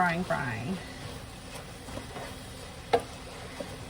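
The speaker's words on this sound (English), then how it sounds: "So right now it is just frying." Quiet, steady sizzling of cabbage frying in a pan, with a few light clicks and a brief voice at the start.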